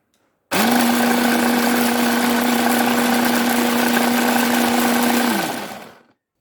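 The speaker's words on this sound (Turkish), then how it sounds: "Rondo da çekeceğiz şimdi." Blender grinding melon seeds with water into plant milk, a loud, steady motor whine that starts abruptly, holds an even pitch for about five seconds, then winds down and stops.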